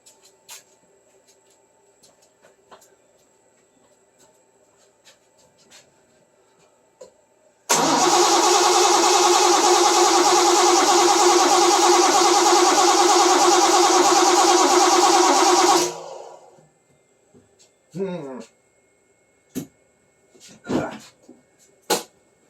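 A 1970 Triumph TR6 engine is started while its distributor timing is being set. It catches and runs steadily and loud up close for about eight seconds, then shuts off, leaving scattered clicks and clunks.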